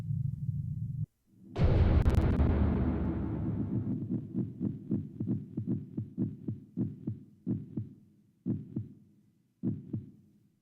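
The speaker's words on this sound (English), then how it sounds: "The pile bunker once again fires and reduces its painful recoil." A pile bunker fires in the mecha game Robotics;Notes Elite with a single heavy, booming impact, followed by a long rumbling decay and a series of dull, rhythmic throbbing thuds that thin out and fade.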